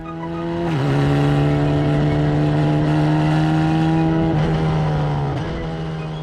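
An F4 race car's engine holds a steady high-pitched drone on track, with a brief dip and recovery partway through as the car slides, loud and close with no talk.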